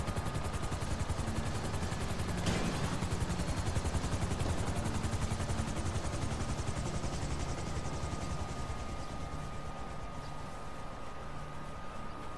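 Helicopter flying in Grand Theft Auto 5, a steady loud rotor drone with chopping texture running throughout, alone without voices.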